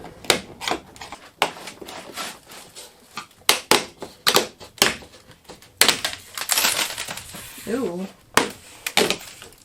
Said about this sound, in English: we're going to try to carefully remove this trim